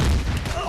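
A short burst of gunfire in Empyrion striking a tree, a loud low boom with rumbling thuds crowding a fraction of a second.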